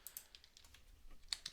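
Keystrokes on a computer keyboard come in an irregular run of soft, quick clicks, with a couple of sharper taps near the end, faint and close with no voices.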